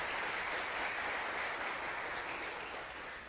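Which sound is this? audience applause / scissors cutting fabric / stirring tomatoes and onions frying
audience applause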